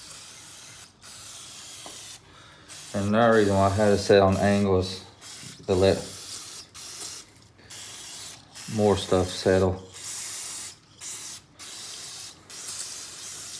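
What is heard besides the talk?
spraying car cleaner on Briggs and Stratton engine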